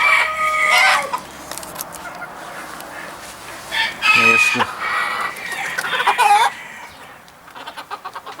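A rooster crows loudly nearby while Hamburg hens cluck and chatter around it, with several crowing bursts across the scene.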